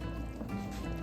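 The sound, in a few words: rinsing a kitchen strainer with water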